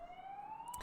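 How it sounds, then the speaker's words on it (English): Sirens wail outside during an indoor podcast recording: a single faint, thin tone that rises steadily in pitch, heard alone with a brief rustle at the end. "sorry, there's sirens. You can probably hear them."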